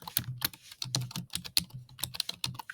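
Quick, irregular keystrokes on a computer keyboard while an email address is entered to sign in and activate whiteboard software, close and clear with short pauses between bursts of typing.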